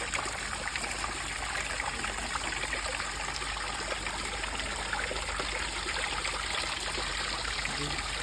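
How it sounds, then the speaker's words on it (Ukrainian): A garden waterfall at a riverside estate feeds a flowing stream, producing a continuous dense rushing and splashing of water, loud and close, steady throughout with no talk. "І далі у нас ось такий красавець, гарний водоспад."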